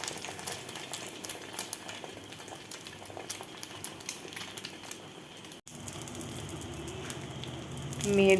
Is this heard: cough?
no